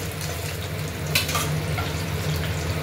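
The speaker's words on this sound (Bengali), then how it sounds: "এবার ডিমগুলো আমি ভেজে নেব। আগে ডিমগুলোকে ভেজে নেব" Duck eggs frying in hot oil in a wok give a steady, close sizzle and crackle that holds evenly throughout, with a brief brighter spatter near the middle.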